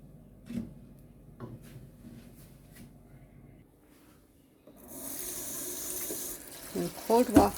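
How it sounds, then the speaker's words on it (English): Cold water runs from a kitchen tap into a bowl, a steady bright hiss starting midway after quiet handling knocks, with a brief voice near the end. "I'm going to run them under cold water"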